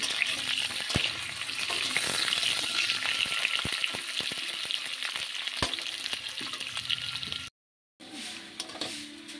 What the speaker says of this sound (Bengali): এর মধ্যে আমি আলুগুলো দিয়ে দিয়েছি। আলুগুলোকে একটু লাল লাল করে ভেজে নেব।